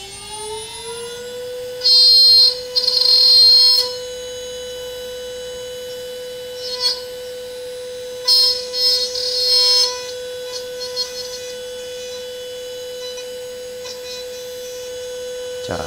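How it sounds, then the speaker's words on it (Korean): A woodworking machine motor runs steadily while tenons are cut on 18mm square timber for a four-sided display table, a constant tonal whine punctuated by several loud bursts of rasping cutting noise. "모터를 돌리고 촉 가공을, 꼬줌 촉 가공을 해 보겠습니다."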